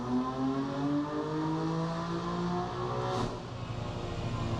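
A BMW F80 M3 twin-turbo engine on a dyno drones at high rpm, a loud steady mechanical roar with rising harmonic tones and a brief whoosh near the end, no voices.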